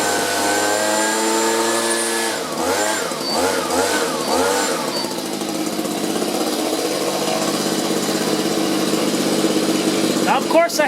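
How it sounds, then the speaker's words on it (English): Handheld blower blasting dust out of a space heater that isn't heating, a loud steady rushing drone with a few pitch swoops as the motor revs, running throughout with a voice over it. "I'm going to take my blower and blow in there"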